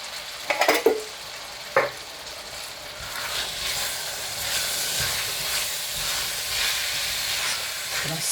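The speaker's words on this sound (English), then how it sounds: "stir that in" Lamb mince and chickpea curry being stirred in a pan, a few sharp scraping and clattering spoon strokes at first, then a continuous steady sizzle and hiss of simmering sauce, close and without voices.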